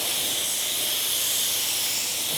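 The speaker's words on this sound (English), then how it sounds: "I'm putting the second coat on just a little bit drier." A paint spray gun lays a second, slightly drier coat onto a car, giving one loud, steady, close hiss that runs unbroken from start to end.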